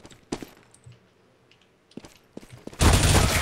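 Gunfire in the CS:GO video game: scattered single shots, then a loud, dense burst of rapid fire at the end, close and unaccompanied by speech.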